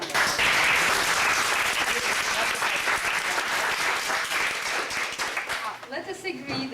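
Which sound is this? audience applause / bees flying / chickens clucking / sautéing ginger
audience applause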